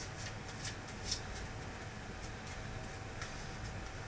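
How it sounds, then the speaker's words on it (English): A deck of playing cards being hand-shuffled repeatedly, giving a soft, steady rustling with light card flicks throughout, quiet and close over faint room hum. "I'll just shuffle this. I'm gonna shuffle as many times as I want."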